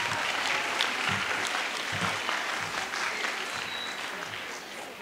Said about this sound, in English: let's have a round of applause again